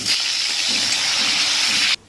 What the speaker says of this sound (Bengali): এই তেলে সাদা জিরে ফোড়নে দিয়ে কচুটা দিয়ে দিলাম